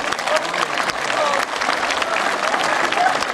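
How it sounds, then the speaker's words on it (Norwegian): Festival audience at Nordsjøfestivalen applauding, dense steady clapping that stays loud throughout, with voices audible beneath the crowd. "Ja, jeg klapper litt."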